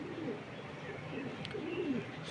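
Pigeons cooing at home, soft repeated low coos in a quiet indoor setting, faint and close with a few brief higher chirps.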